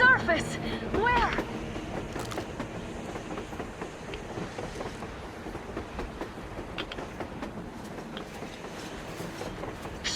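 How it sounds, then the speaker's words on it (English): Train rolling along the surface in the video game Metro Exodus, a continuous rumbling rattle with faint clicking, heard at some distance under game sounds. "A train! A damn train on the surface!"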